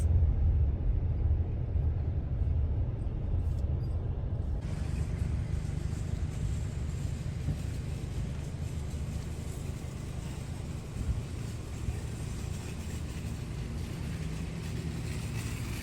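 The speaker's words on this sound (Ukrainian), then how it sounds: "О, який тракторець." A continuous low tractor engine rumble drones throughout, steady and fairly close, with a brief shift in background noise early on.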